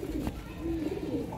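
Sialkoti pigeon cooing, a short soft low coo or two heard faintly and close, with a brief click partway through.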